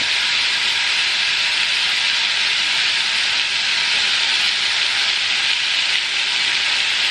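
Plenty of bacon frying in a breakfast skillet gives a loud, steady, close hiss of sizzling fat that holds even and unbroken from start to finish, with no voices.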